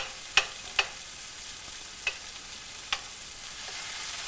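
Garlic sizzles in a frying pan for an anchovy dish, a steady hiss broken by four or five sharp scraping clicks from stirring, with no speech.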